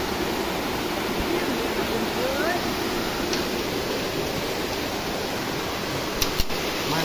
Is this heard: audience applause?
no